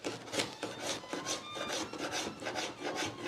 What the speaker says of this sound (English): And also roughen the surface of this main rod that is sticking into the workbench, so that it holds better